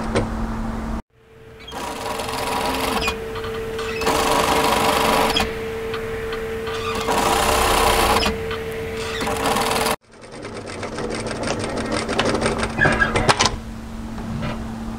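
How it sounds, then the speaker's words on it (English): A sewing machine stitches a quarter-inch seam on a backpack strap in steady close bursts, pausing briefly between runs and backtacking at the start and end, with no talk over the motor. "All we're going to do is sew a 6 mil, 1/4 of an inch seam down."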